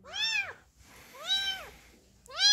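A young kitten rejected by its mother meows three times, loud and close. The calls are high and drawn out, with short pauses between them and no talk over them.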